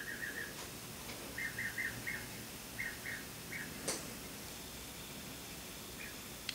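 Several birds chirp in short repeated bursts outdoors on a warm day, faint and a little distant over steady background hiss, with a few louder isolated calls scattered between the rhythmic chirps.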